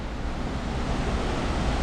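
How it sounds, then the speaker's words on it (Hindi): Waterfall at Saklikent National Park in Turkey, a steady broadband roar of rushing water, loud and continuous throughout with no voices. "So finally, we are at the waterfall."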